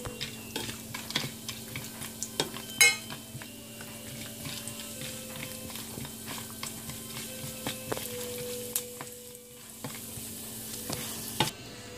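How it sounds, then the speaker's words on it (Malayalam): Cashew nuts and roasted gram fry in a pan with a soft, steady sizzle, broken by scattered clicks and scrapes of stirring and one sharper clatter near the start. "നമ്മൾ ബാക്കിയുള്ള അണ്ടിപ്പരിപ്പും പൊട്ടുകടലയും വറക്കാണ്"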